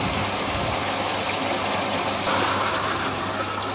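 Water rushes fast down a hydraulic flume channel, making a steady, dense, hissing flow with no breaks and no speech over it.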